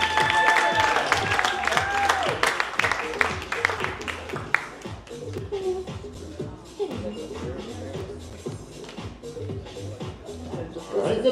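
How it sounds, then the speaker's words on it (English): Audience applause at a sustainable cocktail championship event, dense clapping with cheering at first that thins into scattered claps and shuffling. "Big round of applause for her as well."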